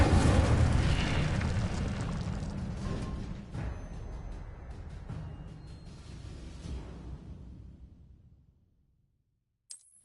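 A fiery Incendio spell cast in Hogwarts Legacy on PS5: a loud roaring burst of flame that rumbles and fades over several seconds into silence, followed by a brief faint click.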